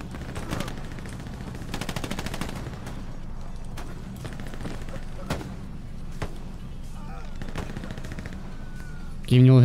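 Gunfire rings out in the World War II shooter Hell Let Loose on the Omaha Beach map: sharp, separate shots and short bursts crack over a low rumble of battle noise, ending in a loud, sustained blast.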